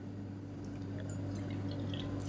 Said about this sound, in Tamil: இப்போ இதே கப்பில் அதாவது ஒரு பங்குக்கு நாலு பங்கு தண்ணி ஊற்றிக்கலாம்